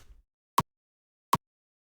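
Two short, sharp kick-drum click transients made in Kick 2, spaced evenly in near silence, each a brief bright tick with a little low thump under it.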